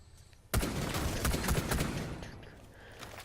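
Gunfire in Rainbow Six Siege erupts after a quiet half-second: a sharp opening shot followed by a rapid burst of close, loud rounds with clattering echoes, tapering off toward the end.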